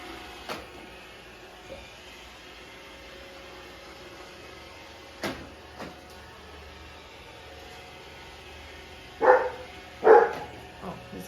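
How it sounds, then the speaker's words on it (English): A dog barks at a Roomba robot vacuum indoors: two loud, close barks near the end after a few faint thumps and sparse sounds over a low household hum. "Why are you barking?"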